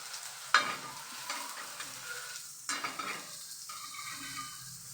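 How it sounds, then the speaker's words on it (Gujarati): Tomato uttapam frying in oil on a pan over a medium flame, giving a steady sizzle with a sharp crackle near the start and louder bursts partway through, probably as it is pressed down or more oil is added. No voices. "પાછું 1 ચમચી તેલ નાખી અને બરાબર શેકી લેશું."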